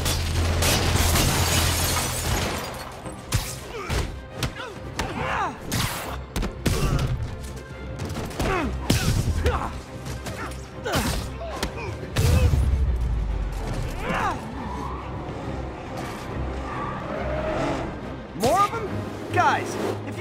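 Gunfire and combat in the video game Spider-Man Remastered: repeated sharp shots, thuds and crashes in irregular bursts over a busy soundtrack, with voices talking throughout.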